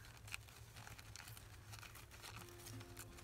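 A paper napkin torn by hand for a junk journal, quiet close crinkling and soft ripping rustles in short irregular bursts.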